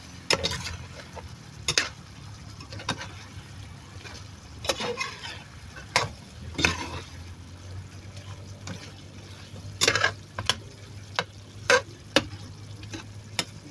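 Pork adobo with vegetables and chili being stirred in a pan, with a spoon scraping and clinking in irregular bursts over a soft, steady sizzle close by.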